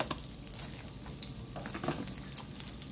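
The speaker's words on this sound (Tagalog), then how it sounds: "Gisa ko lang konti yan." Onion and garlic sautéing in butter crackle and sizzle quietly in a pan, a soft continuous frying sound broken by light stirring taps.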